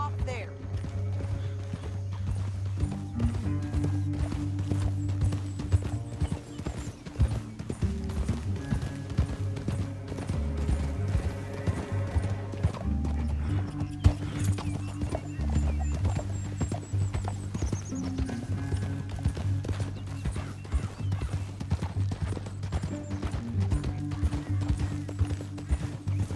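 Horses gallop through a canyon in Red Dead Redemption 2, with steady clip-clop hoofbeats and an occasional whinny, layered under music and game sound effects.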